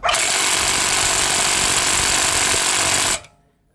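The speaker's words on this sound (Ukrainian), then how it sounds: "Прокрофтовський гайковерт ПВ-18." A new cordless impact wrench, PV-18, hammers loudly and continuously for about three seconds on the rear wheel of an Audi, then cuts off abruptly.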